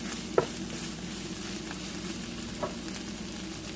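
Meat frying in a pan with butter for an Ethiopian egg and meat dish, a steady close sizzle and hiss with two brief clicks of a utensil, no talking.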